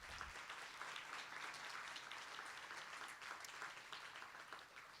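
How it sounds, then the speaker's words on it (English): Audience at an athletics hall of honor induction clapping for an inductee, a broad, continuous patter of many hands heard at a distance and fairly quiet, holding steady throughout. "can you just help me thank Matthew, and let's clap for him"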